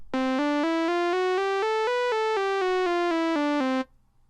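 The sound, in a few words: Arturia Modular-V synthesizer step sequence playing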